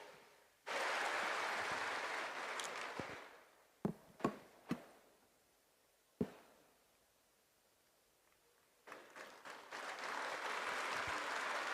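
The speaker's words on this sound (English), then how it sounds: "And clap for yourselves." An audience at a spirituality festival event claps in bursts: a sustained round of applause, a few sharp isolated claps and knocks, then the applause swelling again, fairly faint and distant in a large hall.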